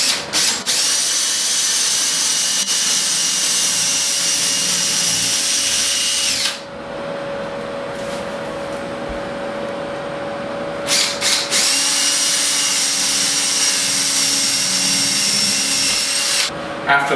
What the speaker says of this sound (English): we're just going to pre-drill a 1/4 inch hole through the Onyx wall panels.